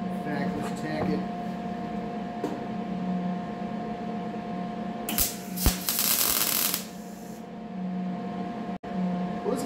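A welder lays a tack weld on a steel rolling cart built for a big block Mopar engine. A brief, loud, crackling buzz of about a second and a half rises over a low shop hum.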